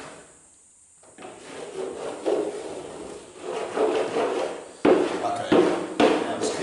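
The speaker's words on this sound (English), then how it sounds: "Wherever we have this base amount of wax, waxing over the top of that will be significantly easier." Surf wax being rubbed over an existing base coat of wax on a surfboard, a soft grainy scrubbing in uneven strokes with a few sharper knocks near the end, close and fairly quiet.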